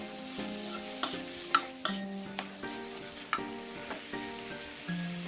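Holy basil leaves stirred into a sizzling squid stir-fry for a Thai dish: a steady close fry hiss with a series of sharp utensil scrapes and clacks against the pan, spaced irregularly.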